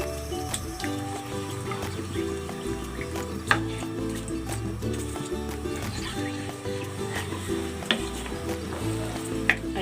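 A pot of garlic, lemongrass and shrimp paste bubbling on the stove, a soft continuous simmer with faint pops and sizzles and occasional sharp clinks, low and close.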